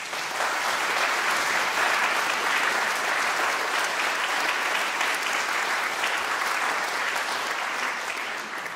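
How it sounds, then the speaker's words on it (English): A large audience gives sustained, dense applause at a Polish international piano competition ceremony held in memory of Halina Czerny-Stefańska. The clapping is loud and even throughout, fading slightly at the end, with no talk over it. "Let's give the round of applause to all those people."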